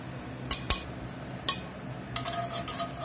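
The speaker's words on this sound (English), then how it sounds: "I'm going to go in here and get it out of the pot" Browned bacon scooped from a pot with a metal utensil, giving a few sharp, close clinks and scrapes against the pot, then a softer run of small rattles and scraping.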